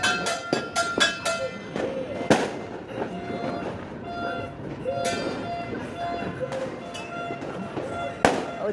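New Year fireworks go off in the neighborhood, sharp cracks and bangs in scattered bursts, some sharp and close, others muffled, with people talking in between.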